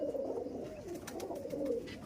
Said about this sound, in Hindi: ये काला चीना कबूतर है